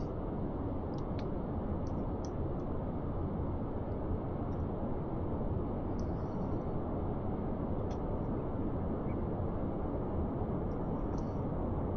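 Rocket engines in Kerbal Space Program roar in a loud, steady, broadband rush that holds without pause, with faint higher clicks over it.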